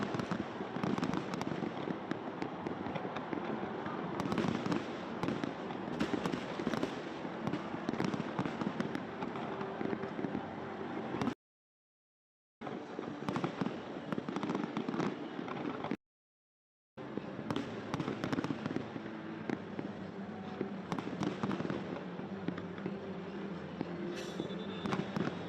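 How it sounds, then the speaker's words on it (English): Long, dense barrage of fireworks launched from a dozen or more boats out on the ocean during a Brazilian celebration, with crackling bursts and booms running continuously, broken by two brief silent gaps. "it's like 30 minutes of fireworks"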